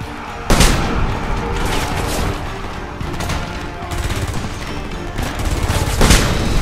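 Battle gunfire in the Homefront video game: dense, continuous rapid shots and bursts, loud and close, with heavy booms standing out at a few points and no break in the firing.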